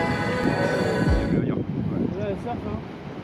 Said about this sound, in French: Il y a trop de vent là. C'est pas calé.